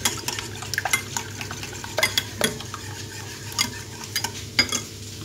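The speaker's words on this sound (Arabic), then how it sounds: "هنا ناخذ واحد التراب نخلط هاد العناصر يجي روعة" A utensil stirs a mini quiche mixture of cheese and onion in a bowl, giving repeated scraping clinks and soft wet swishes at close range, with no talking.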